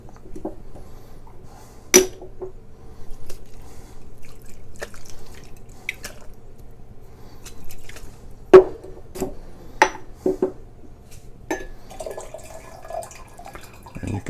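Water sloshes and drips in a container as churned butter is rinsed and shaken, with irregular splashes and clunks, fairly close and moderately quiet.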